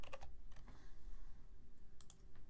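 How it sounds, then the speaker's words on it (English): Quick bursts of keystrokes on a computer keyboard, soft irregular clicks in short clusters, close by and fairly quiet, with no voices. "when I start typing in Panda, there it is."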